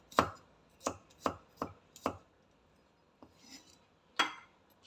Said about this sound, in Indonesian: Saya pakai daun seledri berwangi, bawang putih 2, potong-potongnya gede-gede aja.